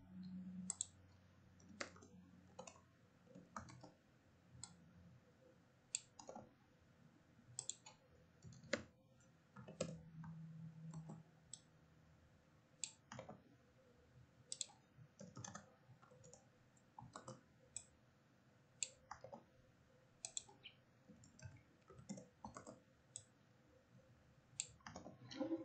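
Computer mouse clicking while copying, dragging and pasting chart data, with crisp irregular clicks scattered across about 25 seconds at low level over quiet room tone, and no speech.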